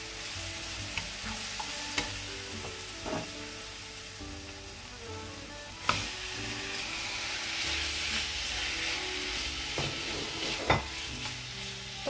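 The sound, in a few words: chicken meat frying with onion in a pan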